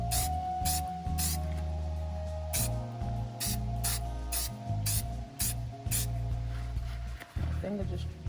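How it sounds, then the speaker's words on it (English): Aerosol spray paint hissing onto a beach-themed tumbler in several long bursts with short pauses between, close and loud, over a low background hum. "I know I'm spraying too much in one spot."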